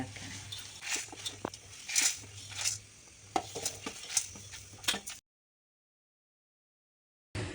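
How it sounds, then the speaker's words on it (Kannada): Spices and chillies sizzle lightly in a pan for upsaaru, with clinking stirring strokes, then a stretch of silence before the sizzle briefly resumes. "ಮೆಣಸಿನಕಾಯಿದು ಕಲರ್ ಚೇಂಜ್ ಆಗೋ ತನಕ ಹೀಗೆ ಲೈಟಾಗಿ ಫ್ರೈ ಮಾಡ್ಕೊಳ್ಳಿ"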